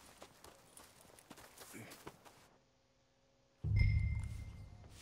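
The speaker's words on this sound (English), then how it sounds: "That's a beautiful horse." In Red Dead Redemption 2, a horse's hooves clip-clop in a light, uneven patter that stops briefly. A louder low rumble then sets in.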